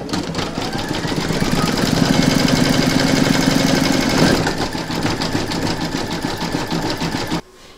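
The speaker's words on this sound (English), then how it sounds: "And then you're going to stitch round number nine, and that's going to quilt along here and then do the satin stitching around the edge of it." An embroidery machine stitches a quilting round on an in-the-hoop snow globe design, a loud, steady, rapid mechanical whir and needle chatter running close and continuous before cutting off abruptly near the end.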